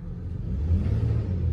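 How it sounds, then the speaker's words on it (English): Failing transmission front pump whining in a 2005 Nissan Frontier with 205,000 miles, a low steady engine rumble with a faint whine running underneath, close and even, with no talking. "I don't know if you can hear that whining noise"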